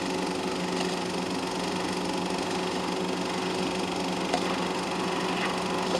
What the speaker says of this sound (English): The little Berkeleys are powered by motorcycle engines.